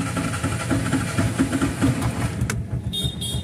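A Bajaj auto rickshaw engine is cranked with its electric self starter: a loud, steady mechanical whirring and churning for about two and a half seconds, then it cuts off abruptly, leaving near quiet with a few faint high tones.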